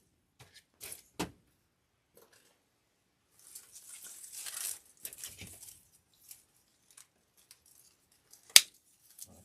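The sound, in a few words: scissors cutting stems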